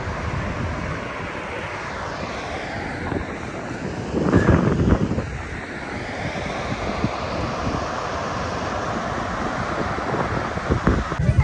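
Strong, cold wind gusting across an open dam on the Ganga, a steady broadband roar of buffeting against the microphone that swells briefly midway and continues throughout, with no voices heard.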